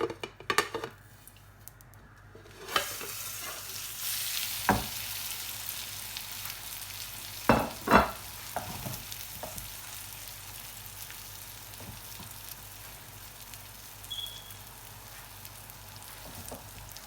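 A Spanish omelette mixture frying in a pan over medium heat, with a steady soft sizzle and a few sharp clinks and scrapes of utensils against the pan, no voices.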